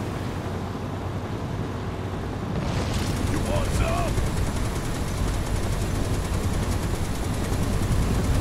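Gunfire in Final Fantasy VII Rebirth rattles as a dense, continuous burst over a noisy battle backdrop that grows louder partway through, with combat sounds layered throughout.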